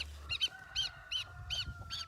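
Goslings calling in a farm setting, a series of about five short, high honking peeps in regular bursts, fairly close and clear over a low background rumble, with no talk.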